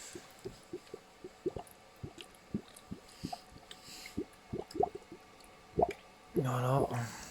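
Bottle filling at an HHO electrolysis setup: a quick run of soft wet drips and squishy bubbles, ending in a louder burst of gurgling liquid.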